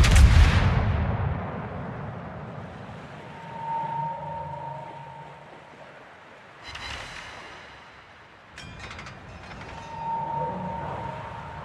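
A World of Warships naval artillery salvo opens with a heavy, loud boom that rolls off into a long rumbling decay. A second, weaker blast and some clanking follow later over low ship ambience.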